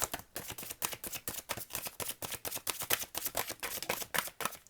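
A deck of playing cards is shuffled in a rapid run of crisp riffling flutters, close up and continuous for several seconds with no talking.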